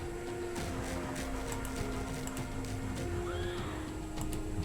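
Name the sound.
horses neighing in a video game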